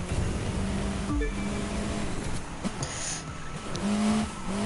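A Saleen S1 GT4 Cup race car in The Crew 2 drives with a steady engine drone that shifts pitch as it accelerates and brakes, along with tire noise and a brief squeal.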